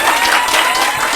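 Audience at a show or event applauding, a loud dense burst of clapping from a crowd filling the space, close and continuous throughout.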